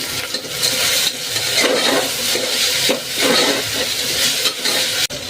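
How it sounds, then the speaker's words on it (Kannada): Potatoes and peas frying in oil in a pan, a steady close sizzle broken by repeated scraping strokes of a stirring spoon, ending with a sharp knock against the pan. "ಆಲೂಗಡ್ಡೆ ಫ್ರೈ ಆದ ನಂತರ ಮಟರ್ ಹಾಕ್ಕೊಂಡು ಮಟರನ್ನು ಫ್ರೈ ಮಾಡ್ಕೊಳ್ಳೋಣ"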